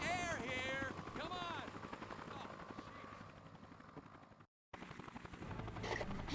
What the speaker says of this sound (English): News chopper.